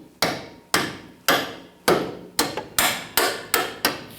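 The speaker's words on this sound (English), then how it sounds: "I'll get that with a hammer." A hammer drives a bolt through a Jeep Wrangler rear shock mount in eight sharp metallic strikes, evenly spaced at first and then quicker, each ringing off before the next hit.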